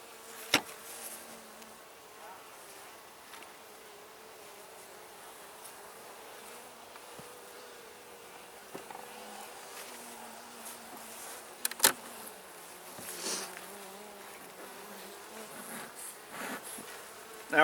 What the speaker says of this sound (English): there's another yellow jacket, see?